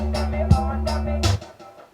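A classic 1980s reggae track plays back with a thumping electronic bass line and punchy drum hits in a steady rhythm, loud, ending abruptly after about two seconds.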